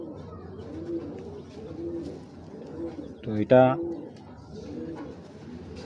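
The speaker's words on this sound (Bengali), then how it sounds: "কবুতরটা অনেক বড় সাইজের একটা নর," A large male racing pigeon coos in a short rolling burst midway through, close and fairly loud, while someone speaks over it before and after.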